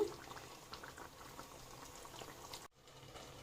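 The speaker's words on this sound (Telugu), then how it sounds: "chicken curry ఉడుకుతుందండి" A pot of chicken curry boils with soft, steady bubbling, quiet and close, with a brief dip in the sound near the end.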